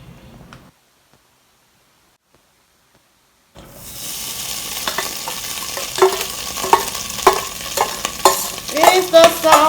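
Beef hits hot oil in a pan after a short near-silent pause, then sizzles loudly and steadily while a utensil scrapes and stirs it in repeated bursts. No one speaks.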